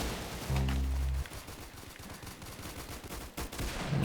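Gunfire from a golden AK in the Roblox game Arsenal: a quick burst of shots, then scattered bangs at moderate level, no talking.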